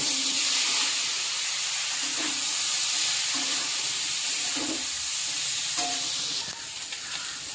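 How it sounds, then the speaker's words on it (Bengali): Young jackfruit fries in hot oil in a wok with a steady, bright sizzle and hiss, interrupted by a few soft scraping stirs, and the sound eases slightly toward the end. "এবার ওই তেলে এঁচড়টা ভেজে নেব"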